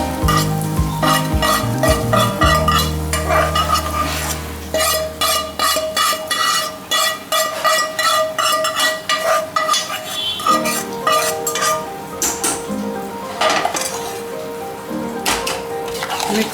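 Pongal is stirred in a pot after asafoetida goes into hot oil: a spoon scrapes and clinks rhythmically against the metal pot over a soft sizzle, with a low tonal hum fading out early.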